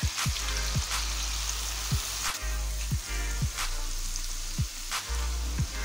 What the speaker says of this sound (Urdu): مسالے کو اچھی طرح بھونیں گے.